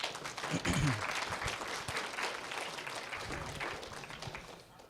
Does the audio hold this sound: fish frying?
no